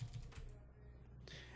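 Typing on a computer keyboard gives a few close, quick keystroke clicks at the start and again near the end, faint against a quiet room hum.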